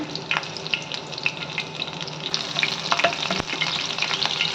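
Chopped ginger and green chillies sizzle in hot ghee, a loud, continuous crackling fry with sharp pops and stirring scrapes throughout and no talk.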